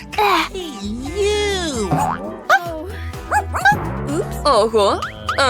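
A voice imitates a dog after eating dog food, giving a run of short, bouncy, yelping barks and whines up close, with pitch sliding up and down between bursts.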